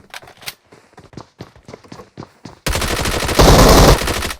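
Loud, rapid automatic gunfire from PUBG Mobile erupts as a sustained dense burst after a stretch of quieter tapping footsteps, close and harsh, with no talk.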